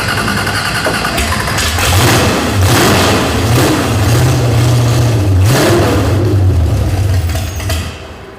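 A 1964 MGB engine, being readied for road racing, catches and fires up, then revs loudly and repeatedly in a close, steady roar with rising and falling pitch before settling.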